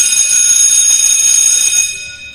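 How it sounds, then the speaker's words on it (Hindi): An electric school bell rings loudly and continuously with a bright metallic tone, then cuts off and fades in the final moment. "स्कूल की घंटी बजी, छुट्टी की घंटी"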